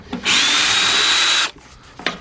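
A cordless drill spins an 8mm 3/8-drive socket for about a second, a loud, close, steady high whir, to back out bolts during fuel pump and filter replacement on a 2001 Ford Explorer 4.0.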